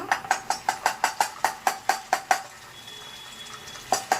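Onions frying in a pan are stirred with a metal spoon that scrapes and taps the pan in a steady rapid run of about a dozen strokes, then pauses before one more, against a faint sizzle.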